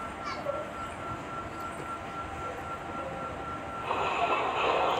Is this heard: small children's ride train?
yes